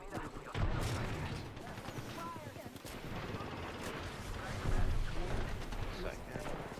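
Video game gunfire crackles in rapid bursts and scattered shots over a dense, busy battle mix, heard under overlapping players' voices calling out.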